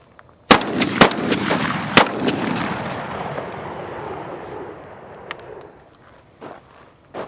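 Weatherby SA-08 shotgun firing birdshot outdoors: three loud, sharp blasts in quick succession, each followed by a long rolling echo, then a few fainter clicks and handling noises.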